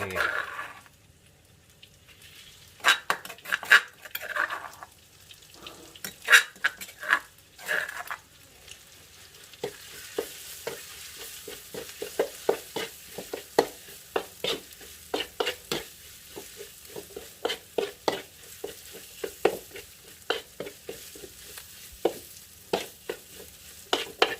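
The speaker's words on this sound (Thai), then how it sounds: "เราจะตั้ง กระทะ น้ำมันพอร้อน ๆ น้ำมัน พอได้ที่แล้วนะครับ เราจะเอาพริกลงไปคั่วนะครับ" Chilies stir-fried in hot oil in a wok, giving a steady crackling sizzle with repeated sharp scraping and clinking strokes of a utensil against the pan. An early stretch sounds like it may carry faint talk.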